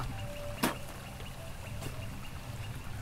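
A single short spit lands in a river, a sharp splash-like burst over a faint, steady flow of water, followed later by a softer second pop.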